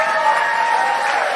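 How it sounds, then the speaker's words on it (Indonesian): An audience applauds for Indonesia at a religious sermon gathering held in America, a dense, even wash of clapping close by that holds steady at the same loudness for the whole moment, with no single claps standing out. "Tepuk tangan dong buat Indonesia."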